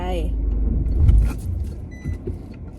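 A car in first gear pulls away on a drive to the sea, giving a low engine rumble and light cabin noises, with a voice briefly heard.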